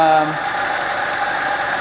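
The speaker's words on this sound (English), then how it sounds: "Alright, the engine has been running quite a long time now" A 2.0-litre FSI engine in an Audi A4 Quattro idles steadily with an even mid-pitched hum and faint vibration, close and continuous, after a brief louder moment at the start.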